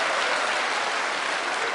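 A church congregation claps steadily together through a sermon as the preacher leads a popular song, a dense, continuous wash of applause filling the hall with no voices above it.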